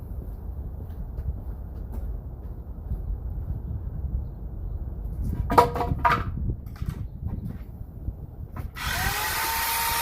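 A power tool cutting wood runs in a few short bursts, then a steady high-pitched whine near the end, with quiet background in between.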